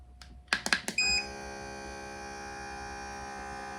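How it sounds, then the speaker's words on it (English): A vacuum pet food storage container is sealed: a few button clicks and beeps come first, then the pump starts a steady, close electric hum that runs on unchanged to the end. "you want to start by pushing here in the middle just until it starts vacuuming for about 3 seconds"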